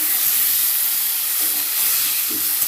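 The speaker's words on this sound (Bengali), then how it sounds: "হালকা ভেজে নিচ্ছি ওই পর্যায়ে দিয়ে দেবো এই মশলাটা" Spices and potatoes frying in oil in a pan, a steady close sizzle and hiss with faint stirring scrapes throughout, no voices over it.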